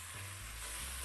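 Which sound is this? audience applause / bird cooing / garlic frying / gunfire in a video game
garlic frying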